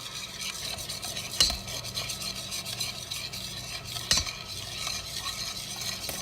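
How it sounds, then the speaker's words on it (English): Golden milk on the stovetop with the heat turned down, a soft steady hiss overlaid with rhythmic scraping and stirring strokes, two louder metallic knocks standing out, no talking. "we'll turn down the heat just a little bit and simmer that"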